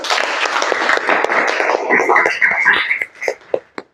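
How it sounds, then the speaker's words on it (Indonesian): A classroom of pupils applauding during a Quran recitation lesson, dense close clapping for about three seconds, then breaking into a few scattered final claps. "tepuk tangan semuanya"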